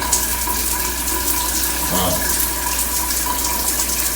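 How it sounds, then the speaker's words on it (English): Steady, loud hiss of water spraying from a loose adjustable shower head in a hotel bathroom, continuous and unbroken throughout. "it looks like we have a pretty nice spray in the shower"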